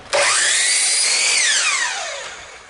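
Power saw cutting a wooden piece for a bluebird house, the blade whining up to speed, holding steady, then dropping in pitch and winding down, close and loud, no speech.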